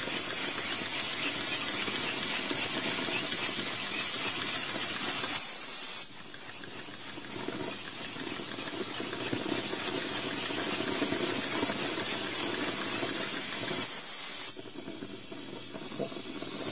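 Steam hisses loudly and steadily from a homemade boiler feeding a homemade steam engine, a broad roar that drops abruptly twice as the flow is cut back, then swells again.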